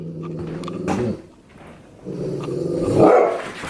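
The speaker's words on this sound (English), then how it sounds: "The doggy's out there." Dog barking and growling in two short loud bursts separated by a brief pause, close by, with a sharper bark at the end.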